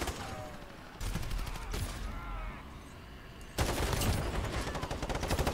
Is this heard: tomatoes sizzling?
no